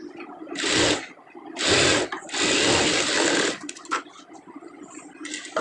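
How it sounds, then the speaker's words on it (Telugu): A sewing machine runs in three bursts while stitching a blouse lining, each a dense rapid whir, with quieter handling noises between the runs. "ఈ పైన ఒక కుట్టు వేసుకుందాం."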